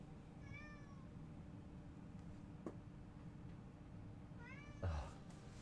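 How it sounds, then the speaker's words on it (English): A cat meowing muffled with a toy held in its mouth, two quiet drawn-out meows several seconds apart, faint and close, with a soft tick and a low bump between them. "Meowing with it in his mouth, so he was muffled."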